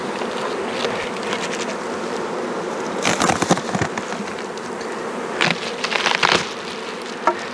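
Honey bees buzz steadily around a healthy-looking beehive in July, a dense droning swarm close by with sharper passes of individual bees zipping near at times.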